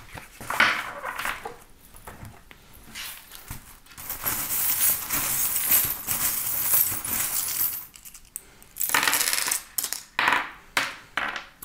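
Small metal charms are tossed and scattered for a divination draw, giving a cluster of light metallic clinks and jingles, one longer rattling spell and then several sharp separate drops near the end, with no voices.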